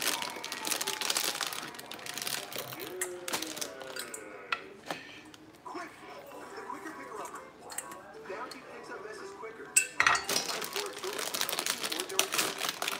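A plastic bag of dry beans is cut open and handled, giving quiet, intermittent crinkling and small ticking rustles with soft voices in the background.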